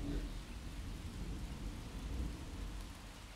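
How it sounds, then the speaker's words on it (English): A thunderstorm rumbles in the survival video game Miscreated, with steady rain noise and low thunder rolling throughout, continuous and fairly faint with no talking. "Shit, and the storm's coming."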